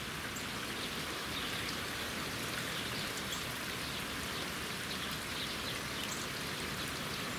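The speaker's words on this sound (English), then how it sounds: "we're getting more rain than we've gotten in a long time" Heavy drought-breaking autumn rain falls steadily in the St. Louis metro area, a constant soft patter and hiss on surfaces, with no voices.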